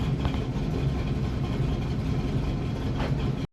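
Car engine with a big cam and a stock torque converter idling steadily and lumpily at close range, a low rumble that cuts off abruptly at the end.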